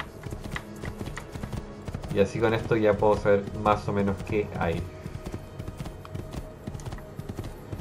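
Horse hooves gallop in a quick, regular clip-clop rhythm in Assassin's Creed II, continuing throughout while someone talks over the middle section.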